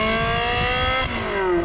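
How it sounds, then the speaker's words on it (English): Manual Ferrari 360 Modena engine, a loud, gruff, sporty note held at high revs, dipping briefly before the pitch drops, heard close from inside the car. "It's not a fire-spitting monster, this 360, but it's got a pleasing, sporty, gruff noise."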